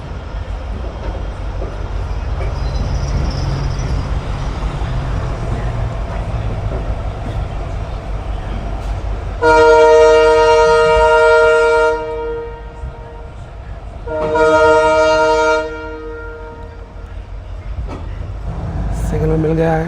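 The Amritsar-Bikaner Superfast Express (14720) rumbles along steadily while its locomotive horn sounds two loud blasts, one long and one shorter, over the constant rolling noise.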